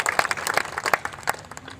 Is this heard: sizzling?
no